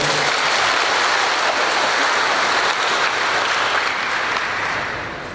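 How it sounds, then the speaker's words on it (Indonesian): Steady, dense applause from a ceremony crowd at the opening of a civil-service training program in Tana Toraja, sustained clapping throughout and tapering slightly at the end. "Tepuk tangan untuk beliau."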